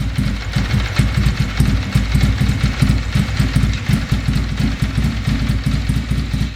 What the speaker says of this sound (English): we're gonna just start the engine. Just let it put this in neutral